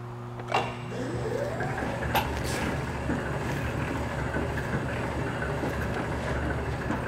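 A Robopac horizontal stretch wrapper rotating through its revolutions, a faint, steady mechanical hum with a few soft clunks near the start.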